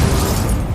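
The Incendio fire spell going off in Hogwarts Legacy on Xbox Series X, a loud, dense explosive roar of flame sustained for under a second.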